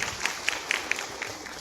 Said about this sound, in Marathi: जोरदार टाळ्या वाजवते त्याच्यासाठी